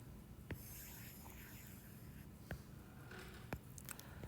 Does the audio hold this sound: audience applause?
no